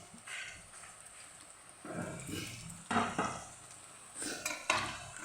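Crushed garlic and spices fry in a pan for a chicken with coriander leaves dish, producing a moderate sizzle with bursts of stirring and scraping against the pan.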